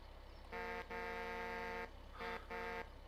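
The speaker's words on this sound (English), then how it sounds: "Honk, honk, honk." Truck horn honking in a farming simulator video game, a loud buzzy blast, then a longer held one, then two short toots, over a low engine hum.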